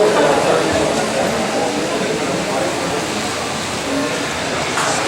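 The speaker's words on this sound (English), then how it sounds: "There are thousands of trains rolling about everywhere." A model train rolls along a huge miniature layout depicting the Swiss Alps, its faint running noise blended into a dense, constant wash of crowd hubbub filling a busy exhibition hall.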